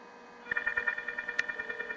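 A telephone line gives a faint series of quick electronic dialing tones and clicks, a rapid regular pulse of beeps heard alone and close.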